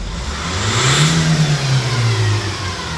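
A Honda CR-V 2.2 diesel engine with an engine management fault revs up under a single throttle press, its close, gritty drone rising, holding briefly and sinking back toward idle.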